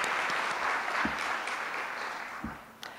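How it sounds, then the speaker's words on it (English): An audience at a grandparents' gathering applauds, a sustained patter of clapping that slowly fades, with a few thumps and knocks from the room. "And please applaud yourselves."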